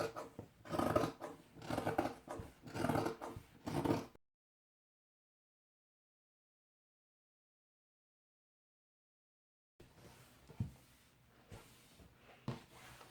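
Scissors snip through fabric while a princess cut dress is cut out, with quick rhythmic cuts close by, then a long silence and a few softer, scattered snips afterward.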